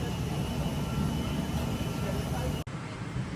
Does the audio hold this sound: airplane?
yes